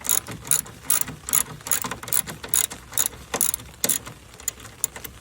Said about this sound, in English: You're gonna come back with your socket and you're gonna tighten that down.